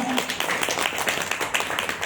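Audience applause fills a hotel training session room for an insurance sales team, a dense, continuous patter of many hands clapping at steady loudness for about two seconds.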